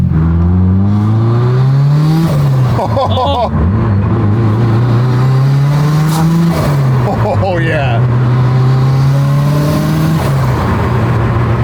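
A car engine revs hard and repeatedly, rising and falling in pitch as the car pulls through its gears, close and loud, with someone speaking over it.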